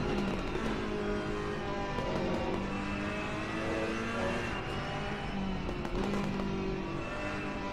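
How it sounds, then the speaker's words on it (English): A Ferrari race car engine in Assetto Corsa Competizione during a league race at the Nürburgring, with a loud, continuous engine drone whose pitch rises and falls through gear changes, heard alone. "Love the crackle of the Ferrari when you downshift from this thing."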